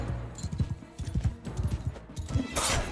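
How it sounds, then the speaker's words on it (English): A pack horse's hooves clop in a steady, even rhythm at moderate volume in the medieval combat game Mount & Blade II: Bannerlord, with no voices. "I'm on a sumpter horse."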